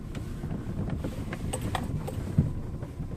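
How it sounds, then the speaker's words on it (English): Wind gusts buffet the microphone beside Fluf's Fishing Lake in Grover, North Carolina, a steady low rumble with a few sharper puffs, no talking. "Hope this wind dies down a speck."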